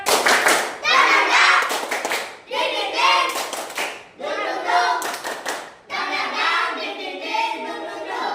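Students in a classroom perform a patterned group clap: quick clusters of crisp hand claps separated by stretches of children chanting in unison, loud and near.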